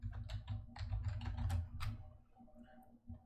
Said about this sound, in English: I'm gonna have to type it in.